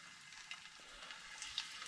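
Pig fish shallow frying in a little oil for lunch, a steady soft sizzle and crackle with small spits popping through, close and fairly quiet.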